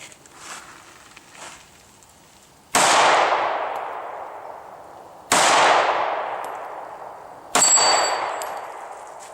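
Three loud, sharp shots from a Smith & Wesson M&P 9 Shield pistol, each ringing off steel plates with a long metallic decay, spaced a few seconds apart outdoors, with faint softer pops before them.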